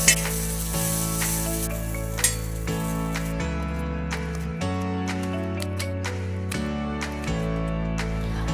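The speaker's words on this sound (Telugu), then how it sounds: "ఇప్పుడు బఠానీలు 5 మినిట్స్ వరకు వేపాలి." Peas and sprouted green gram frying in a little oil, a steady close sizzle with occasional stirring clinks from a utensil against the pan, no talking.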